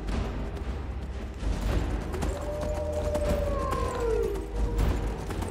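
Horse hooves clip-clop steadily as a rider travels on horseback in the video game Skyrim, a continuous rhythmic trot under game music and ambient noise, with a sustained tonal whine partway through.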